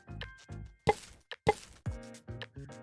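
Chicken pieces dropped into a bowl, a handful of close, soft wet plops landing one after another in quick succession.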